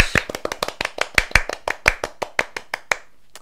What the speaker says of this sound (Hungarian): Taps!